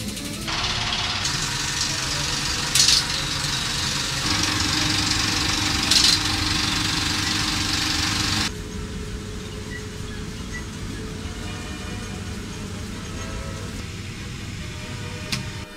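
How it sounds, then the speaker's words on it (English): Cinerama's three film projectors and sound machine start together, setting off a loud steady mechanical whir and hum with a couple of brief clacks, easing to a lower running drone partway through. "The push of one button starts all 3 projectors and the sound machine together."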